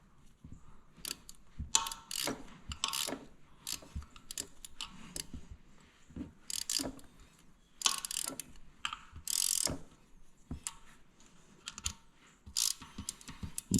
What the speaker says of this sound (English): a 10mm ratchet wrench works best for this job because you really don't have the clearance right here for a socket and ratchet